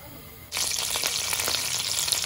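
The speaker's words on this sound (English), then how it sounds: "once they start to sizzle" Sudden loud sizzle of fresh curry leaves hitting hot oil with cumin and mustard seeds, a steady crackling hiss close by with no voices.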